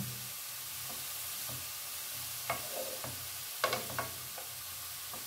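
Ingredients for pepper halwa fry in a pan with a soft, steady sizzle, and a few sharp spoon scrapes and clinks come as they are stirred, fairly quiet and close, with no one speaking.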